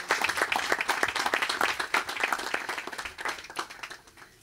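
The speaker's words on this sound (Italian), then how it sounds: "qui l'applauso deve essere più forte, Ciro Mazzamauro," An audience at an Italian football club's evening event applauds in a burst of dense hand clapping that is fairly close and lively, then thins out and fades over a few seconds.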